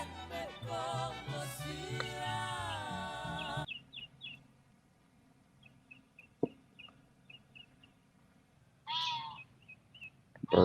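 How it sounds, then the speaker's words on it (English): Music plays first, then a bird on a golf course gives a series of small, faint repeated chirps, ending with a louder, sharper call near the close. "Bird's laughing at me."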